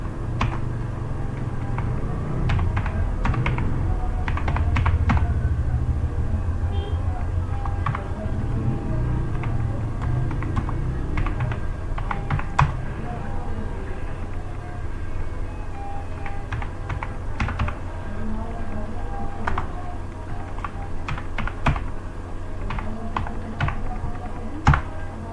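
Typing on a computer keyboard: a long run of quick, uneven key clicks close by, with bursts and short pauses over a low background hum, and no talking.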